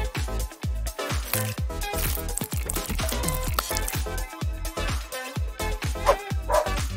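Repeated short dog barks and yips in quick succession, close by, mixed with rustling and other busy sounds.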